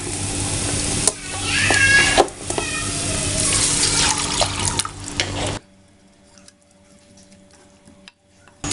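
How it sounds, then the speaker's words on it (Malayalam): Water pours into a Kerala-style clay-pot chicken curry masala as a loud, rushing stream for about five seconds, then cuts off to near silence. "നമുക്ക് കുറച്ച് വെള്ളം ഒഴിക്കാം."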